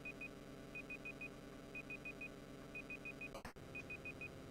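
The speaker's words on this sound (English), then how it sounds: "What's that beeping noise?" Quiet, annoying electronic beeps in regular bursts of four high tones, each group repeating about once a second over a low background hum, with a brief clatter near the end.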